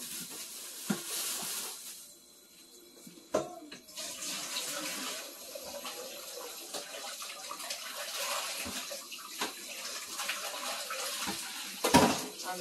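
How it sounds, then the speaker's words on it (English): Warm water pours from a kitchen tap into a sink for washing yellow yam, a steady close hiss with a few clunks and splashes of handling. "Now I'm gonna put some warm water."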